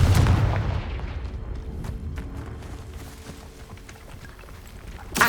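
Confringo fire-blast spell in the game Hogwarts Legacy: a heavy explosive boom at the start that decays into a rumbling tail, followed by scattered softer impacts and a second burst at the end.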